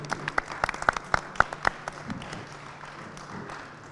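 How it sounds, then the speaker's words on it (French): An audience applauds guest Déborah Brémond, with sparse, sharp individual claps near the start that quickly thin out and fade into a quiet room. "on peut l'applaudir"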